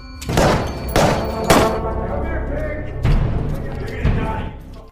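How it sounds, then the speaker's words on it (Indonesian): Several sharp gunshots ring out in quick bursts, with shouting voices mixed in during a tense exchange of fire in the film Last Shift. "Terjadilah tembak-tembakan di antara mereka, yang mereka ini nggak tahu siapa."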